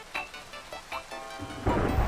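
Minecraft thunderstorm with lightning: steady rain hiss with several soft thuds, building to a loud rumbling thunder crash at the end, with no voices.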